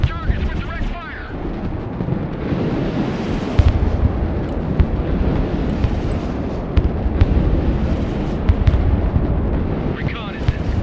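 Artillery fire and explosions in the military strategy game Broken Arrow, a dense, continuous rumble of booms and impacts with sharp cracks scattered throughout, loud and close.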